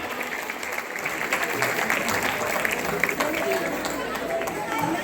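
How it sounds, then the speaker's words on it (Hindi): Applause for students at a school annual function: an audience clapping loudly and steadily throughout, with crowd chatter beneath the applause. "इन सभी बच्चों के लिए जोरदार तालियां हो जाएं।"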